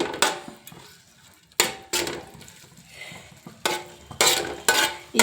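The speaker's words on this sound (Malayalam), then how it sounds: "ഈ നെയ്യിൽ കിടന്ന് നമുക്ക് മത്തങ്ങ നന്നായി ഉടച്ചെടുത്ത് ഒന്ന് വഴറ്റിയെടുക്കാം." Cooked pumpkin is mashed and sautéed in ghee in a pan for pumpkin payasam, with a soft sizzle under repeated sharp scraping and clacking strokes of a utensil against the pan, close and irregular.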